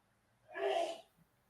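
A single sneeze from someone in another room, a brief breathy burst lasting about half a second, muffled and fairly faint against a quiet background.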